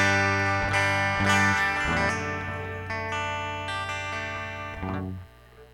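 Electric guitar through a Valeton GP200 set to a clean Dark amp with no cabinet, ringing out a few strummed chords and single notes that sustain and fade.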